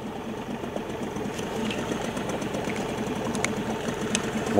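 A boat motor runs at a steady idle on a river during catfish fishing, giving a rapid, even chugging buzz with a few faint clicks and knocks over it and no voices.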